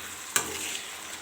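Chicken masala frying on a low flame, a soft steady sizzle with one sharp spatula tap near the start, close and quiet with no voices.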